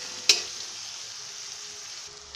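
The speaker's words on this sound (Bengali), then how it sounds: "পেঁয়াজ কুচিটা হালকা ভাজা ভাজা গোল্ডেন ব্রাউন হয়ে গেলে, সোনালি মতো ভাজা হয়ে গেলে" Chopped onions fry in a pan, a quiet, even sizzle throughout with one sharp click of a utensil near the start.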